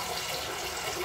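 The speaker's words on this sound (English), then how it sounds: "I'm gonna actually put a bit of cold water in it because that's really hot." Cold tap water runs steadily into a shaving bowl, a continuous broadband splashing rush that stays loud and even for the whole second with no voices.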